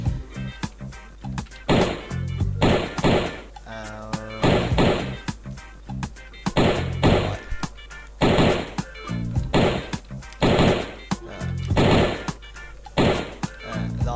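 Machine gun fire in a browser game, repeated loud bursts of rapid shots in a regular rhythm, separated by short quieter gaps.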